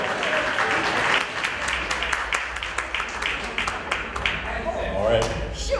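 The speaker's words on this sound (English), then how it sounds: "Big round of applause." A small birthday gathering for Sherry claps together right after the birthday song, a dense, steady patter of hands that holds at close range for several seconds under scattered voices.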